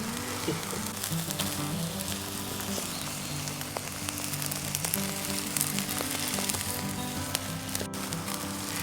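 Meat and zucchini sizzle steadily on a portable folding campfire grill over an outdoor fire, a dense continuous crackle with frequent small pops, close and fairly loud without any talking.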